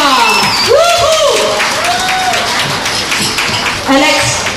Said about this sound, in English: Applause for them, Wilson and Alexandra.